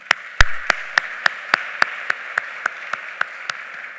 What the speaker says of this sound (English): A round of applause to CRISA 2 and the CRISA committee.